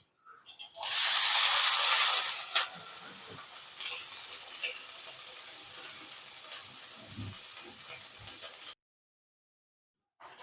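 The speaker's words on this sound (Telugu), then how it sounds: "పచ్చిమిరపకాయలు ఆయిల్లో వేయించుకున్నప్పుడు మూత పెట్టుకుంటే బాగుంటుంది, లేదంటే టప్లు ఆడుతాయి." Green chillies sizzle loudly in hot oil, a strong crackling burst at first that settles into a steady, softer fry with occasional pops and spatters, close by, until the sound cuts off near the end.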